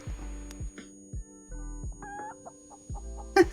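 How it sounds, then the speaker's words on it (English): A chicken in the space-survival video game Breathedge clucks in a string of short, close, moderately loud calls, with a sharper squawk near the end and no talking over it. "We have a space chicken."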